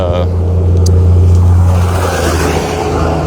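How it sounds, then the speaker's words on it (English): A big dump truck rumbles past outdoors, a loud, steady low engine drone that swells and fades over a few seconds. "Big old dump truck just went by."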